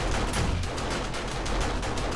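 SMG turrets fire at zombies during horde night in 7 Days to Die, producing a dense, continuous rattle of rapid gunfire that stays loud and steady throughout.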